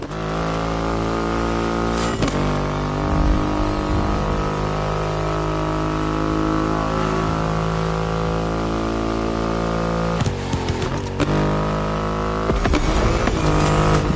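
A Triumph Rocket 3 motorcycle with a 2.5-liter engine, driven in the game The Crew Motorfest, holds a loud, steady throbbing drone, with short bursts of revving and gear shifts breaking in a few times, and no talk over it.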